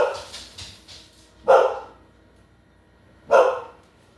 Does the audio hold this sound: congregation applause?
no